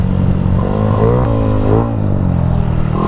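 Yamaha Aerox V2 scooter with a 215cc engine build on a test drive, loud and close with a rough engine note that revs up and eases back in repeated surges before settling.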